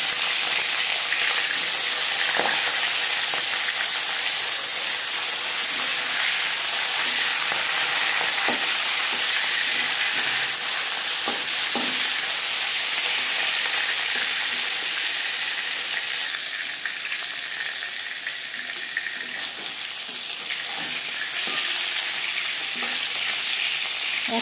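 Marinated katla fish fries in a hot wok with a constant, bubbling sizzle over roughly twenty-four seconds, punctuated by occasional soft stirring clicks and spatters.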